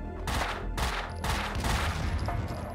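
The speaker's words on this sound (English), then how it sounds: "People telling me to shoot the gas tank in the stairwell" A rapid burst of gunfire aimed at a gas tank in a stairwell in Max Payne 2, firing in dense volleys with short gaps, loud and close, ending in a ringing tail.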